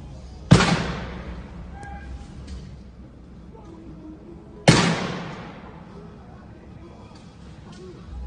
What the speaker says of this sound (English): you're going to see a struggle over a shotgun that ends with the shooting